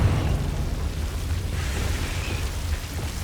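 A Confringo fire spell goes off in the Hogwarts Legacy game, a steady rumbling explosive roar with heavy low-end crackle that holds at an even loudness throughout, with no voices over it.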